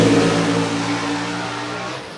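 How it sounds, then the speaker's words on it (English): A gasser drag race car roars loudly down the strip at Shadyside Dragway, its engine holding a steady, throaty pitch that slowly fades over a couple of seconds as it pulls away. "Looks like a good, clean run there, Sounded impressive to me, Rick."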